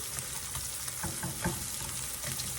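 Rice browning in a pan with beef, onion and mushroom, a soft, close sizzle broken by several scraping stirs, fairly quiet and without talk.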